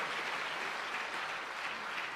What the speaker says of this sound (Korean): 이왕 박수 칠 거 크게 한번 쳐주셔요